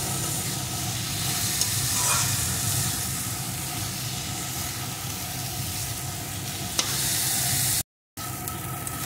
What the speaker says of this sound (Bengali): ততক্ষণ কিন্তু আমি এইভাবে নাড়িয়ে নাড়িয়ে রান্না করে নেব